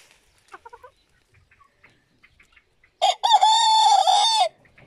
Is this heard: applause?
no